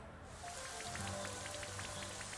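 Rain Dance effect from a Pokémon battle game: a soft, steady patter of falling rain with scattered droplet ticks, quiet and uninterrupted after a brief start.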